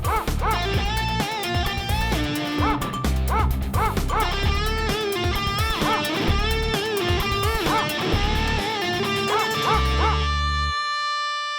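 A dog barks and whimpers in a Telugu film scene, its yelps and whining cries rising and falling over a dense bed of background music, which ends abruptly at the close.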